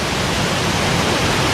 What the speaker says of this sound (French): Alors la cascade du Val de Molieres, la vraie c'est celle-là.